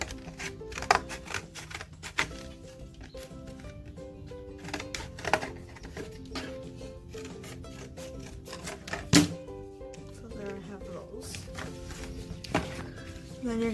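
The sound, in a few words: cutting out a shape from folded material for bottle rocket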